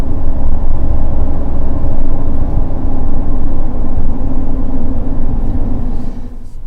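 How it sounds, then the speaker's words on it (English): 33-inch tires on a Ford F-150 with no lift roll at 60 km/h, a loud, steady low road roar and hum heard from inside the cab, unbroken until it drops off near the end. "I'm traveling at 60 kilometers an hour and you can hear the sound of the tires."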